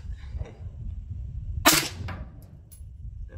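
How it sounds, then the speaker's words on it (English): One sharp rifle shot from a PSA AK-type rifle with iron sights cracks at an outdoor range, loud and close, with a short fading echo over low wind rumble and no talk. "So we're gonna do a first shot, see if we can hit the target."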